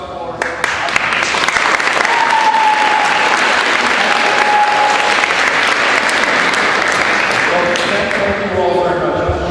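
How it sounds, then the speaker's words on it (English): Students at a school assembly in Middletown give a congressman a loud, sustained round of applause, dense clapping filling the room with brief speech at the start and a voice briefly heard under it. "a big round of applause for"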